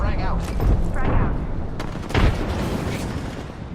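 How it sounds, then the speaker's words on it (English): Gunfire and booming blasts from an online shooter game (Valorant, Overwatch or similar), loud and continuous with bursts of shots and a heavier boom near the middle, under a player's excited talk. "Getting shot at."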